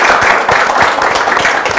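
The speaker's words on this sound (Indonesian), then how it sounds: "Tepuk tangan dulu" An audience at a school event applauds, a dense, loud wash of many hands clapping together without a break, with no voices above it.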